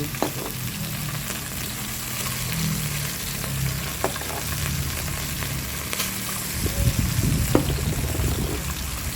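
Tofu fries hard in a pan of oil after soy sauce, oyster sauce and sugar go in, a steady close sizzle with stirring scrapes and a louder burst of crackling toward the end; no talking.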